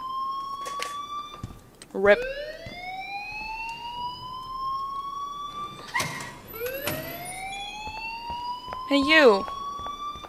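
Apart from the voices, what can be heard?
fire alarm ringing in Life is Strange video game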